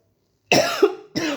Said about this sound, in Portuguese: Desculpa, foi uma tosse de repente.